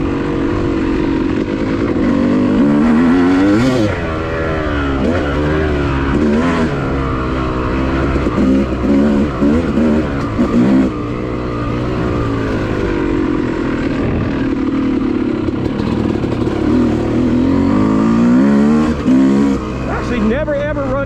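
A squish-modded dirt bike engine roars loudly and continuously along a wooded OHV trail at Enoree, revving and shifting in rising and falling waves, with a voice talking over it.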